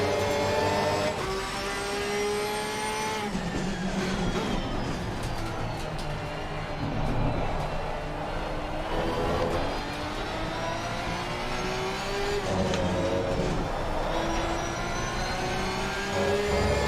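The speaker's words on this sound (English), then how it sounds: "Jesus, the Porsche sounds so aggressive." Porsche 992 GT3 R race car engine in Assetto Corsa Competizione at Spa, a loud continuous aggressive howl rising through the revs with repeated gear shifts and brief drops.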